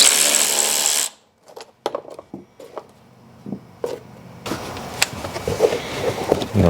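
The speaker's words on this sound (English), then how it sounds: "These are star bits, so I'm gonna go ahead and remove them." A power driver backs star-bit screws out of a Jeep Wrangler panel, a loud whir that cuts off abruptly, followed by clicks and short clatters of handling, then a rougher rumbling stretch.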